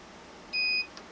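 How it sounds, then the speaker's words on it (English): Circuit Specialists triple output power supply giving a single short electronic beep, clear and close against a quiet background. "you long push the channel 3 button until it beeps"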